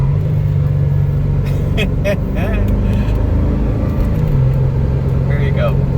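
A V8-powered Porsche Boxster S engine roars loudly and continuously while accelerating through second, third and fourth gear, with a deep rumbling drone and a brief shift in pitch, voices speaking over it.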